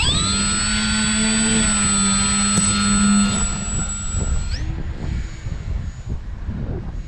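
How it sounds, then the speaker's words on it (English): Electric motor of a T.H. ASW-28 RC glider running at launch: a loud, steady high whine close by with a sliding pitch that fades as the plane flies away into wind noise. "Motor on."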